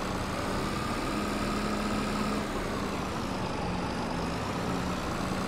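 Tractor engine in the video game Farming Simulator 22, with a steady, loud mid-pitched drone and a faint tonal whine, running continuously without any talking.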